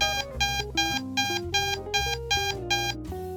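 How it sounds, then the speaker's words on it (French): A steady series of electronic beeps from a Prevena wound therapy device repeating about every half second, loud and clear, over a layered tonal background. "Elle vous le signale par une série de bips."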